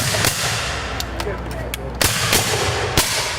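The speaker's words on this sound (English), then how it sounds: "we bring our cannons down and we put on demonstrations for all those who come and support the Trail of Honor" Cannons fire at an American Civil War reenactment demonstration, with several sharp, loud blasts at irregular intervals over crowd noise and voices.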